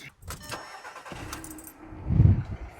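Volkswagen Polo engine starting, a brief starter crank followed by the engine catching and rising into a loud, close revving idle.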